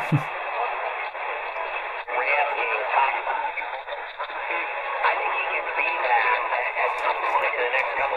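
A tinny, band-limited evening AM broadcast around 1430 on a Daogoly PR-108 portable radio, a voice talking through hiss and static, steady and continuous.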